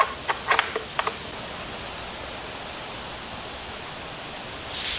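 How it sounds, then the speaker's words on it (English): Heavy rain pours down outside in a steady, fairly faint hiss, with a few louder clinks of nearby metal early on. "the rain is coming down"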